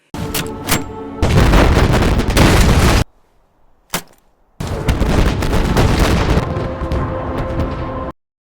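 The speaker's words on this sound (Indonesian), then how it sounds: "Ledakan mengguncang seluruh gunung." Loud, booming explosions in heavy bursts, one long rumbling blast, a sudden silence broken by a sharp crack, then another sustained roar of detonations.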